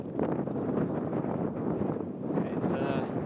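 Wind gusting across a Lake District campsite in rainy, challenging weather, a continuous loud rumbling buffet against the microphone with a roaring, close texture throughout, and no clear talking.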